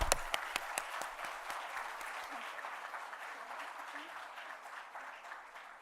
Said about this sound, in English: may we have a big round of applause for our Devis for the last time